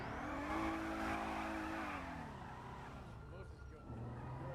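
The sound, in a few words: car traffic in a video game (GTA NoPixel)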